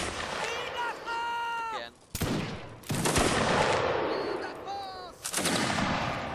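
Pistol and musket fire in a Napoleonic Wars line-battle video game, several sharp cracks in quick bursts cutting through a busy mix of game noise and shouting voices.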